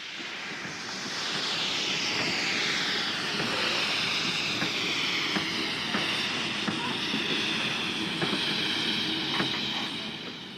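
An oil-fired Romanian steam locomotive of class 460 pulls out of a station as a broad rushing roar that rises and holds at a distance, with faint rhythmic chuffs and clanks beneath it.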